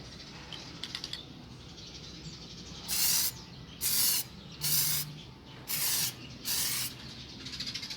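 Clear coat sprayed from an aerosol can onto a Toyota Liteace cluster gauge, five short hissing bursts in a regular rhythm, close and loud against quiet background clicks.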